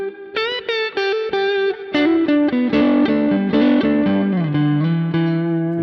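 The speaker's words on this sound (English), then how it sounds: "It's overdriving a lot more, even on the neck pickup." An electric guitar on the neck pickup plays through a Quad Cortex capture of a Fender Deluxe Reverb, treble at 5.5 and bass at 4.5, breaking into overdrive. It plays loud, close single notes, then ringing double stops with reverb tails.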